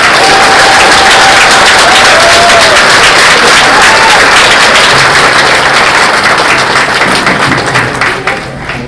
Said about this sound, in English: Let's give one round of applause for all our graduates today.